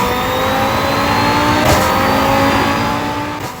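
Race car engine in the Assetto Corsa EVO racing game revs hard and steadily, with a brief stuttering cut partway through as traction control intervenes, loud and close with no talk.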